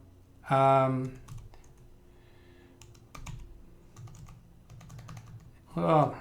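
Rapid key clicks on a computer keyboard tap in uneven bursts during a password login, with a voice briefly speaking at the start and again at the end.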